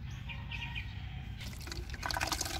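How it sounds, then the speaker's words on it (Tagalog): Water pours into a plastic bottle being made into a drip irrigator for cucumber plants, starting as a quiet trickle and turning louder and splashier near the end, with no talk. "Pupunuin lang natin yan ng tubig."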